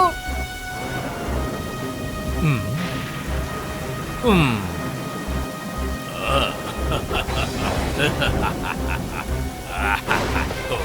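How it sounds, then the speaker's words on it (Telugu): Cartoon rain and thunderstorm effects in a children's animated film, with rumbling and falling-rain texture mixed under whooshing sliding tones and musical score throughout, fairly loud and continuous. "వర్షం కురిసి వెళ్ళు, వర్షం కురిసి వెళ్ళు"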